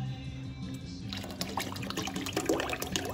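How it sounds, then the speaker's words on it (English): Strained homemade broth splashes and gurgles as it is poured into a Catalan stew with lobster and clams, a continuous close liquid pour that starts about a second in. "It's like splashing everywhere."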